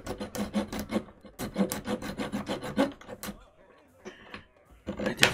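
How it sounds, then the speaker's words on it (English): Rhythmic rasping strokes of a handsaw cutting through small 1-inch wood pieces, close up, in quick bursts with brief pauses between. "Hanging out while I cut 18 1-inch pieces of wood."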